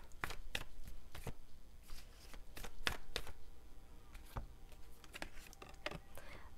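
Tarot cards being shuffled and cut by hand, a series of crisp, sharp riffling snaps and slaps spaced irregularly through a quiet room, close and fairly soft, with no talking.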